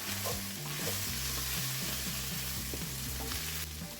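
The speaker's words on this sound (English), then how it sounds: "Give it a bit of a stir." Coleslaw with carrots and ground beef sizzles in a pan while being stirred, a steady close frying hiss with soft scraping, alone without voices.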